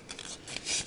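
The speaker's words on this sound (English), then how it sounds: "grab your yarn needle and your scissors" Metal scissors are lifted and handled for a crochet project: a few soft, close snips and scrapes in under a second, faint and without talk.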